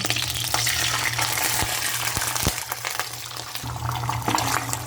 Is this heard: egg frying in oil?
yes